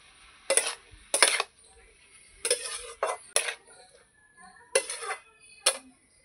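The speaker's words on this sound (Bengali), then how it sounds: "টমেটোটা দিয়ে দেবো। ভালো করে নাড়িয়ে নেব।" Tomato and salt stirred in a pan, heard as a series of sharp metallic clinks and scrapes of a spoon against the pan, about eight bursts spaced irregularly, close and clear with no talking.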